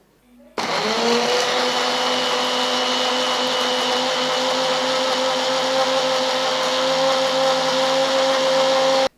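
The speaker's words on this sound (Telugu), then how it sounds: "ఇప్పుడు దీన్ని కూడా మనము మిక్సీ జార్లో వేసేసాం కదా, చక్కగా గ్రైండ్ చేసి ఒక పేస్ట్ లాగా తయారు చేసేద్దాం." Mixer grinder jar grinding aloe vera and hibiscus leaves into a paste, starting abruptly and holding a loud, steady high-pitched whirring roar throughout.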